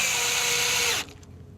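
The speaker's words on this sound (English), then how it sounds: "I'm going to drive some 3-inch screws into that to help fix that board together" A power drill whirs at high speed driving a 3-inch screw into a wooden board, then cuts off abruptly, leaving a brief quiet tail.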